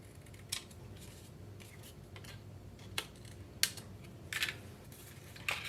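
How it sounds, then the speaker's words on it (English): Scissors snip trimming excess photo album paper pocket flaps, a few sharp separate clicks and cuts spaced irregularly in a quiet room, close and fairly soft. "Just trim those off with your scissors."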